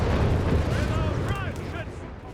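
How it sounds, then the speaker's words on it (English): Artillery barrage in the strategy game Company of Heroes 3, a rumbling, dense roar of distant shell impacts and booms rolling continuously at steady loudness, with faint whistling streaks above, voice commentary running over it. "we've got the officers supporting the Panzers with a bit of artillery barrage here."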